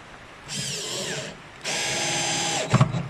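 Power drill driving 3.5 mm screws into a TV stand during furniture assembly: two whining bursts of the motor, the second longer, ending with a few knocks.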